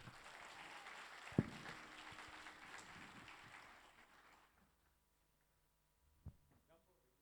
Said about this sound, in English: Please put your hands together for Sean and Bernadine.